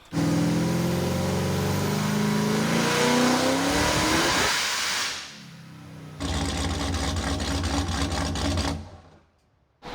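A Toyota Supra with a swapped Hellephant V8, tires dropped to about 15 psi, revs hard and spins its tires in a loud, sustained roar. The engine falls away briefly, then returns with a second burst of wheelspin before cutting off.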